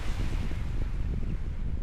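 Wind and waves at Sidakarya beach in Bali, a steady rushing roar with low rumbling surf and microphone buffeting, close and continuous, with no voices.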